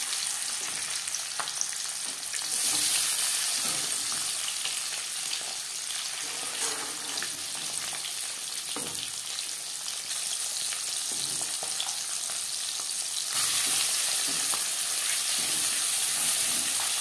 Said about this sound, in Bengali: জ্যান্ত মাছ আমি একটু হালকা করেই ভেজে নেব।